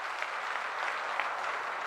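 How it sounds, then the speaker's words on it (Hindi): Steady clapping from a crowd at a public political rally in Bharatpur, dense and even throughout, with no voices over it. "जोरदार तालियों के साथ भाइयों।"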